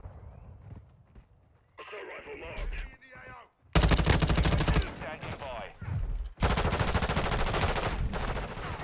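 Light machine gun fire in Modern Warfare II, loud sustained automatic bursts in several stretches, broken by short pauses with some quieter game effects between them.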